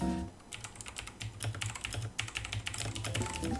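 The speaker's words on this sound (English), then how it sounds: "Blue switches tend to produce a sound when you press down on them" Rapid, continuous typing on a mechanical keyboard fitted with blue switches, a dense run of sharp clicky keystrokes at close range with no voices.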